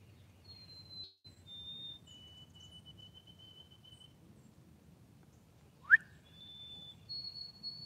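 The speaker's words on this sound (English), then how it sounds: "I thought somebody was in the woods whistling at me." Faint, thin whistled tones drift in from a distance in the woods, several long sustained notes and a quick rising sweep, over a quiet outdoor rumble.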